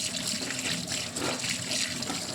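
Hot water from a geyser runs steadily from a kitchen tap into the sink in a cold winter house, a constant close hiss and splash of flowing water with no talking.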